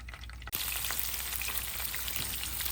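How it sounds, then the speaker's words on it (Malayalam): Ginger, garlic and green chilli hit hot oil with a sudden loud burst, then settle into a steady, close, crackling sizzle with small pops throughout. "നമുക്ക് എണ്ണയിലേക്ക് കുറച്ച് ജിഞ്ചർ, ഗാർലിക്ക്, പച്ചമുളക് എല്ലാം കൂടെ കട്ട് ചെയ്ത് ആഡ് ചെയ്ത് കൊടുക്കാം"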